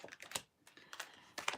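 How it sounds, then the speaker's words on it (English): A deck of oracle cards is shuffled by hand in quiet, soft bursts of riffling and tapping with short pauses between them. "I will give them another shuffle,"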